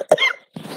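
A single short, harsh cough from a congested person with a cold, close and loud, followed by a brief breathy sound.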